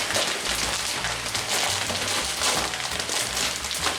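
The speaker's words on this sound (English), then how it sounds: "Our water is boiling for the noodles." Water boiling in a pot for noodles, a steady loud bubbling and hissing wash with a low rumble underneath, continuous throughout with no talking.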